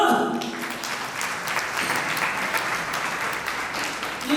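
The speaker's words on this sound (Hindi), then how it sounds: "ताली बजाओ ना" An audience at a youth camp gathering breaking into sustained applause, dense clapping from many hands that continues steadily throughout.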